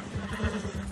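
A horse in the Red Dead Redemption 2 video game gives a short, loud, wavering whinny up close, with a faint hoof clop beneath it.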